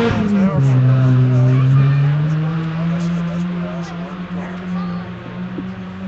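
A Peugeot rally car with part of its front bumper missing races past on a sand special stage at Sandblast, its engine note swelling loud and close, then falling in pitch as it sweeps by and fades off.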